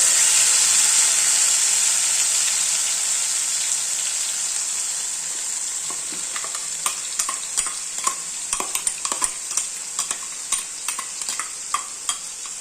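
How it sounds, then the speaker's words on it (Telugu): Spice paste frying in a pan with toasted whole spices gives a steady close hiss that turns into scattered, crackling pops and spits as it cooks. "ఇవి కొంచెం వేగిన తర్వాత మనం ఏదైతే పేస్ట్ ఉందో అది వేసేసుకున్నాం"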